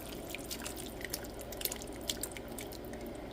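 Water poured into a pot of shrimp and crab étouffée base with a melting shrimp bouillon cube, giving a steady close splashing trickle with small drips and plops, alone.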